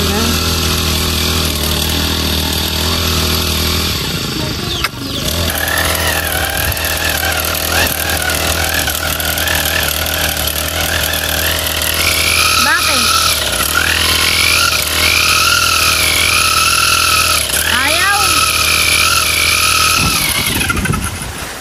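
Grass cutter engine running in a fishpond area, a loud steady buzzing drone that sits close throughout with slight rises and dips in pitch, while people talk over it.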